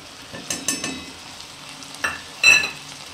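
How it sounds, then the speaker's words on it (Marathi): Ground masala is stirred into a cooked cowpea vegetable dish in a pan: a few scraping stirs with soft sizzling, loudest in a burst near the end, no talk. "आपण तुमच्यासमोर काढलेला मसाला होता तो टाकून घेऊया"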